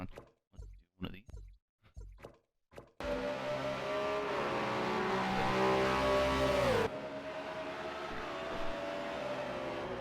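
Race cars speeding in a sim racing game, engine drone steady and loud for several seconds with a falling pitch sweep, following a stretch of choppy sounds at the start.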